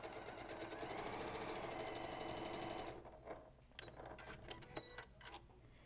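A sewing machine runs in a steady, loud mechanical whir while stitching quilt pieces, then stops after about three seconds, leaving soft handling clicks and rustles of fabric.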